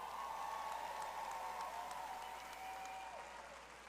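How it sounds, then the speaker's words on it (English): Audience applause at an ASU spring commencement ceremony: a broad, distant wash of clapping from a large crowd in a big venue, sustained and even throughout. "Let's applaud that."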